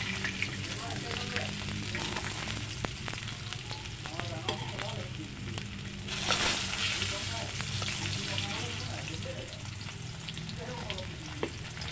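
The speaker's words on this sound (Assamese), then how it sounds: "এয়া মোৰ মাছখিনি ফ্ৰাই কৰা হৈ গৈছে।" Fish sizzles steadily as it fries in a pan for an onion-and-tomato fish recipe, a continuous crackling hiss with occasional louder spits, close and fairly loud, with no talking.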